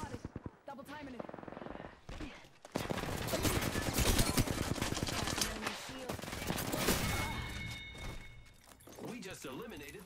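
Gunfire in the video game Apex Legends, dense rapid bursts of automatic shooting for several seconds, loud and close, with game character voice lines spoken around it.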